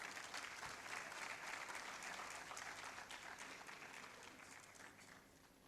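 Guests at a book launch give a quiet, distant round of applause, a dense steady clatter of many hands that slowly fades over several seconds.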